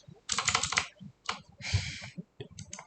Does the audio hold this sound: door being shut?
no